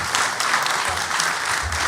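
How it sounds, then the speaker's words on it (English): Loud, close applause from a mayoral debate audience for the panelists, a brief thick burst of many hands clapping. "I'd also like a round of applause for our panelists, Tony, Jessica, and Alex."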